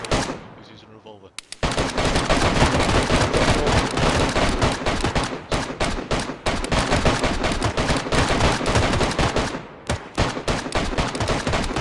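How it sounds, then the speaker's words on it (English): Revolver shots ring out in the DayZ video game amid a foggy firefight, a dense barrage of sharp, loud reports that keeps going almost without a break after a brief quieter opening. "He's using a revolver."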